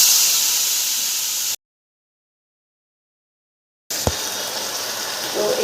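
Cubed tomato and potato hit hot white oil already tempered with whole cumin, bursting into a loud, steady sizzle, then the sound abruptly cuts out for about two seconds before the frying hiss resumes with a short knock.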